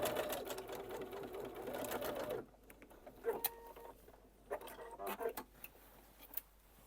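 A sewing machine stitching along a jacket collar whirs loudly for a couple of seconds, then stops, followed by quieter handling clicks and a few short bursts of stitching.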